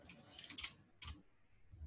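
Fingers type on a faulty computer keyboard in short clusters of quick, close clicks, with brief pauses between bursts.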